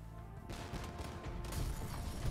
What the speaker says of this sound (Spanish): Me molan los cañonazos porque suenan